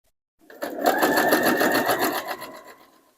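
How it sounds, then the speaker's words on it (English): A sewing machine runs a top stitch along the edge of a cloth napkin, a close rapid mechanical whir with even clicking that starts abruptly, holds steady for about two seconds, then winds down. "now we're just going to do a top stitch real close to this inner edge right there"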